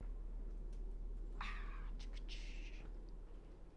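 Pet cats meowing indoors, a few short mid-pitched cries over a steady low hum, fairly close and moderately loud.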